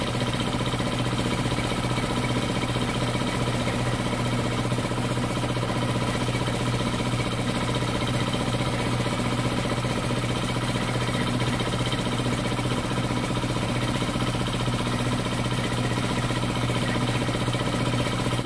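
An air compressor runs in a small motorcycle shop, a steady unbroken mechanical drone with a constant low hum that holds at an even level for the whole stretch, with no voices over it.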